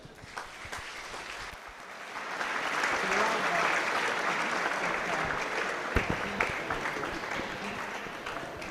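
An audience applauds the women's winner at the Pakistan International Squash Tournament, the clapping building after a quiet start into a sustained, fairly close round of applause, with a presenter's voice audible at times underneath.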